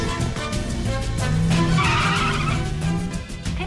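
A car pulls away hard with its tires skidding and squealing, a loud, continuous screech over engine noise lasting a few seconds, in a Hong Kong police drama scene.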